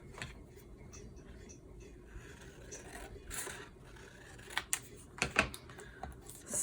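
Scissors or a paper trimmer cut paper down to size for a junk journal, with soft scraping and a few sharp, close snips near the end.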